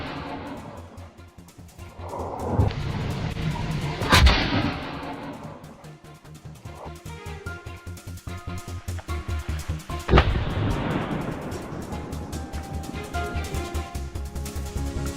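Gunshots ring out during an outdoor wild boar hunt, two loud sharp reports several seconds apart, each followed by a decaying rumble over a background of low outdoor noise.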